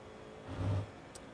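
An FIA F4 race car in the iRacing sim on the Okayama circuit, its engine note swelling briefly as the throttle opens, a short mid-pitched rise and fall heard alone.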